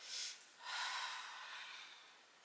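A deep breath drawn in and then let out slowly during a yoga hip stretch. A short, breathy inhale is followed by a longer, steady exhale that fades gradually. The breathing is close and soft, with no talking.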